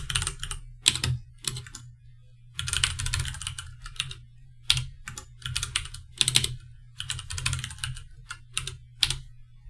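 Someone types a username and password for an administrative user on a computer keyboard. The keystrokes are close and clicky, arriving in irregular bursts with short pauses between them, and no voice is heard.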